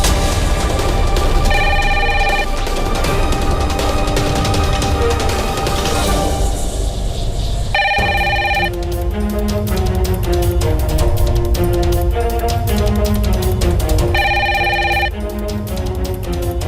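A telephone rings in a domestic drama scene, three separate bursts of electronic trilling spaced several seconds apart over steady background music.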